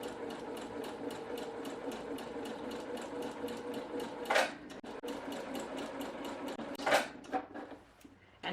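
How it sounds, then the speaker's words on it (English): A sewing machine runs steadily while stitching very close to a fabric edge on a peasant top sleeve, its needle ticking in a rapid even rhythm with two brief sharper clacks, close and moderately quiet. "I'm going to sew all the way around here, just very, very close to the edge."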